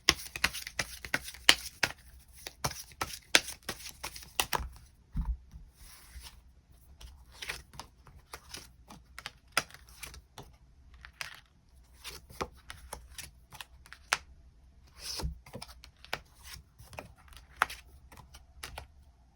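Tarot cards shuffled and drawn by hand, soft riffling flutters and crisp snapping card slaps in irregular bursts, close and quiet with pauses between.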